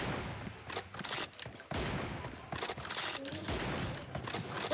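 Rapid automatic gunfire in a PUBG Mobile one-on-one team deathmatch: dense, loud bursts of shots in quick strings, broken by brief pauses, with faint talk underneath.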